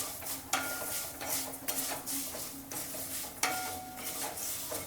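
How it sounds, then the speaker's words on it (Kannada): Poha roasts slowly in a heavy-bottomed pan, a soft continuous rustle and scrape of stirring with light metallic clinks from the spatula at intervals, fairly quiet and with no talk. "ದಪ್ಪ ತಳ ಇರೋ ಬಾಣಲೆ ಆಗಿರೋದ್ರಿಂದ ಚೆನ್ನಾಗಿ ಹುರಿತ ನಿಧಾನಕ್ಕೆ ಹುರಿದಿ"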